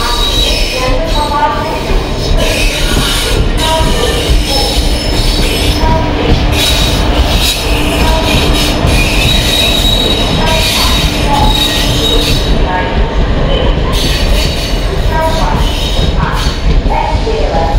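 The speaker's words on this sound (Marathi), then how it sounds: "आणि इकडून मत्स्यगंधा ट्रेन आले." The Matsyagandha passenger train rolls loudly into a busy station platform, wheels squealing and screeching continuously over a heavy rumble, with faint voices around.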